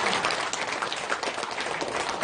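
Seminar audience breaking into steady, dense applause at a business training seminar, a continuous wash of many hands clapping at fairly even loudness throughout, with no voices standing out.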